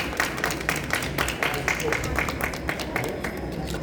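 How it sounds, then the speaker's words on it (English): An audience at a talk on teen reading habits in Oman applauds, a dense, even patter of many hands clapping at moderate distance for several seconds. "Please give a big round of applause to Miss Haylie."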